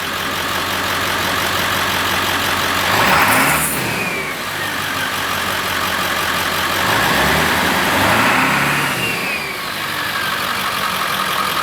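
A 7.3 Powerstroke diesel engine in a Ford Bronco idles with a deep, steady rumble, rising briefly in two revs before settling back, close and loud.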